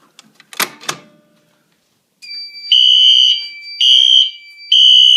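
A fire alarm system sounding during a test, with a strobe ceiling-mount device: after a few brief handling clicks, a loud high electronic tone begins and settles into repeated piercing pulsed beeps, close and alone.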